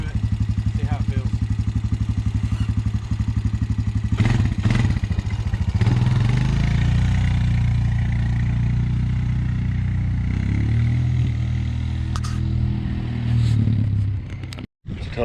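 A 2012 Honda Recon 250 ATV engine runs steadily up close as the quad makes a slow lap, a low droning putter that rises and falls slightly with the throttle before cutting out abruptly near the end.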